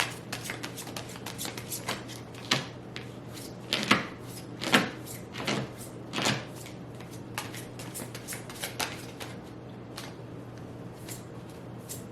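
A deck of oracle cards is shuffled by hand during a tarot-style reading, giving close, soft riffling and clicking taps in an irregular patter, with a few louder snaps, alone without talk.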